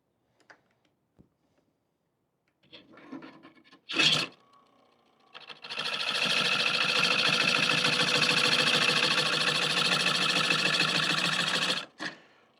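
A McNaughton coring tool cuts into a wooden bowl blank spinning on a lathe, giving a loud, sustained rasping hiss for several seconds, preceded by a few short scrapes and knocks and ending with a sharp final scrape.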